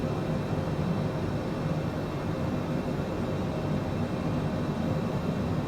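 Cessna Citation CJ4 business jet engines in Microsoft Flight Simulator 2020, spooling up in turbulent descent toward Reagan National; a steady, dense broadband roar holds evenly throughout with no voices.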